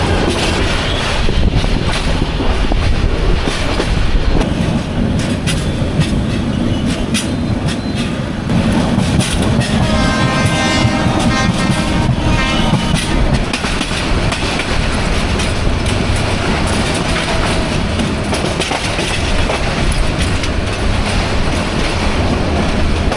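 Train hauled by a 2600 class locomotive passing close by in Bangladesh, a loud sustained rumble with clickety-clack of wheels over rail joints and occasional squeal, no voices.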